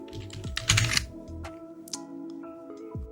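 Rapid typing of JavaScript code for a BMI calculator on a computer keyboard, close-up, with an irregular burst of clacking keystrokes and a few isolated presses afterward, heard alone.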